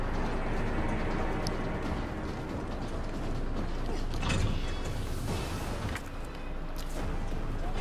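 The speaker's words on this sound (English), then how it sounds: "Go, open the fucking door." In Resident Evil 3, a heavy door opens with a long, grinding mechanical creak and ratcheting clatter, loud and continuous with a louder clunk partway through.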